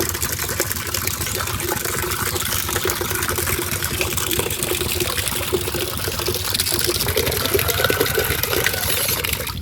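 Water pours into a bucket for a cow on a farm, a loud, steady rushing fill that runs unbroken for nearly ten seconds.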